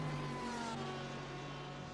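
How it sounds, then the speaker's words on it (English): Porsche race car engine from the iRacing sim at Sebring, a steady sustained drone holding a constant pitch for the whole stretch, fairly loud and with no voices over it. "That Porsche sounds so good."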